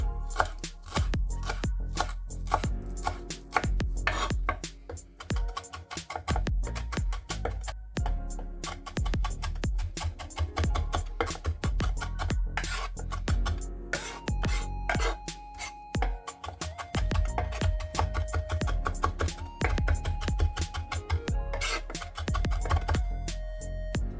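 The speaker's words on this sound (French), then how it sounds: "On va venir hacher notre coriandre." Knife chopping fresh coriander on a board, a steady run of rapid, close, crisp taps that keeps going the whole time with small pauses and no talking.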